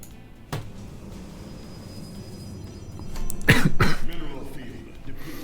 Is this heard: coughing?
yes